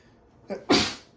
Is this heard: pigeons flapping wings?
no